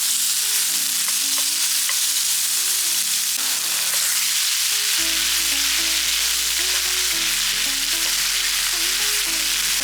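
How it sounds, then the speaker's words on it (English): Ginger garlic paste fries in hot oil left from frying chicken, a loud, continuous close sizzle with stirring, under background music and with no talk. "Now in the same oil, I'm going to add 1 tablespoon of ginger garlic paste."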